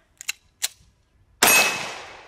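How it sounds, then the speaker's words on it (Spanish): An IWI Jericho 941 or Masada pistol fires outdoors, heard as a few sharp distant cracks and then one loud close shot with a long decaying echo. "Vamos a comenzar haciendo los primeros 5 disparos"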